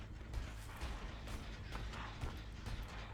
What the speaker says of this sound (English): Why is stuff exploding everywhere?